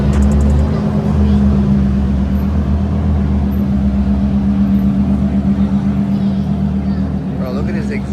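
Car exhaust rumbles loudly and steadily at a car meet in a Liberty Mutual garage, a deep close engine drone throughout with people talking nearby.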